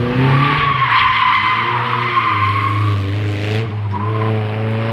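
Loud tire squeal of a drifting car at a drift day race circuit, a sustained screech with engine roar underneath that briefly breaks and resumes, close and intense.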